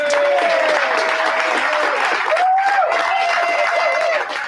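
Audience applause at a social hour event, steady full clapping from a crowd with some cheering voices mixed in, sustained at close range for the whole stretch.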